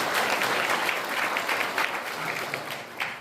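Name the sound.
audience applause at a ceremony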